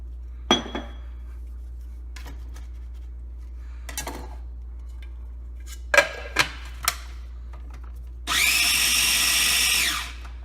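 A food processor's blades whir loudly through a batch of basil pesto with added olive oil, running in one sustained burst of about two seconds near the end after a few scattered clinks and taps.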